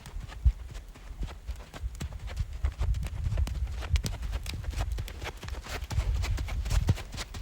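A Rocky Mountain horse moving in a flat walk gait around an arena, its hooves landing in a steady, even four-beat clip-clop over a low rumble of movement, moderately close with no voices.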